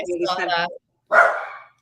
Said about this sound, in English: I've got 4 dogs in the house.